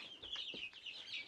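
Homestead chickens cluck softly, a few short, faint calls in a loose rhythm rising over a quiet farmyard background.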